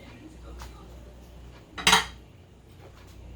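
Mayonnaise added to boiled, drained pasta in a bowl, quiet kitchen clatter with one sharp clink of a utensil against the bowl midway.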